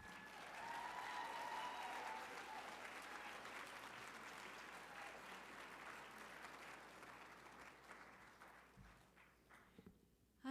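An audience applauds a speaker being welcomed to the stage, clapping steadily for several seconds, the applause gradually thinning and dying away near the end.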